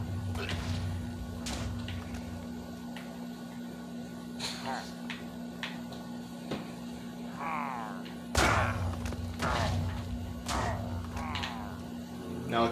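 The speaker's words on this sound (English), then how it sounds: "Now, chain grenade. This will cause explosion." Chain grenade explosions in the Minecraft Actual Guns 3D mod go off as sharp broadband bursts, with a louder blast late on, over a steady game hum and intermittent talk.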